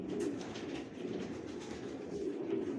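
Pigeons cooing and shuffling inside a breeding loft after the cock birds were swapped around, a steady low murmuring chorus of many birds close by, with no talking.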